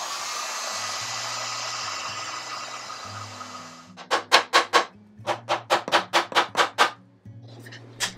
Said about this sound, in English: I just used my heat gun to soften the glue